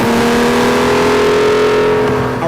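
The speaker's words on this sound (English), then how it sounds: "the dual-mode exhaust emits this sound from the bowels of hell" An Aston Martin DB9 Volante's dual-mode exhaust roars in a loud, sustained rev, a deep throaty drone with strong harmonics holding steady throughout.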